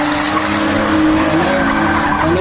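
A drift car skids at a car skill competition on a track, its tires screeching loud and unbroken over a droning engine, with no voices.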